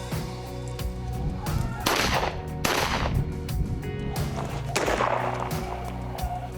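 Gunfire from a rabbit hunt in Henry County, rendered as a few sharp outdoor reports at moderate distance over rustling field noise, with no talking.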